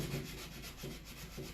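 Hand sanding of old, hardened paint with 80 grit sandpaper, close rhythmic rubbing strokes repeating about every half second, low and soft with no talking.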